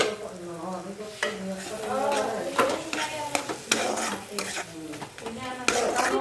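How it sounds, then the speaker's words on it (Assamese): Roasted eggplant is fried and stirred in a pan, with a sizzle under repeated scraping and clinking of a utensil against metal as a voice speaks over the cooking. "এতিয়া সেইখিনি ভালকে ভাজি লোৱাৰ পাছত পুৰি লোৱা বেঙেনাটো দি দিলো আৰু অলপ টাইম ভাজিলো"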